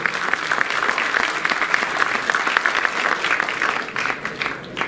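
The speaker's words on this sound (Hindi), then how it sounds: "जोरदार तालियों से उनका स्वागत अभिनंदन करें" An audience gives loud, sustained applause welcoming the chief guest at a formal function, a dense steady wash of many hands clapping together without a break and tapering slightly at the end.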